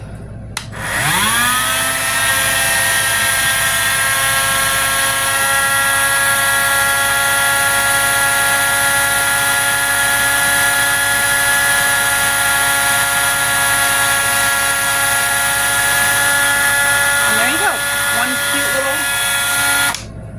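A high-pitched power tool drilling a hole in an eggshell whines continuously at close range, a steady grinding drone that runs for about twenty seconds before winding down.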